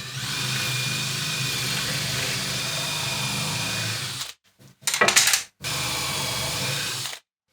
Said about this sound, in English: all I have to do now is just drill in this hole and try to keep it straight down.